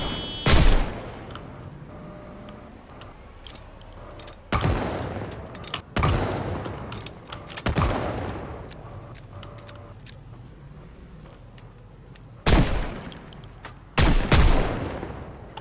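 Gunshots fired at zombies in Project Zomboid, several loud sharp bursts of shooting spaced irregularly with quieter gaps between, some shots in quick pairs, with no talking.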